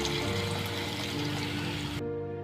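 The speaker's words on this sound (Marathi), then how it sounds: "त्यामध्ये आपण पाणी टाकून घ्यायचे." Water poured into sweet mini corn masala in a pan over low gas, a steady close trickle and sizzle that stops abruptly near the end.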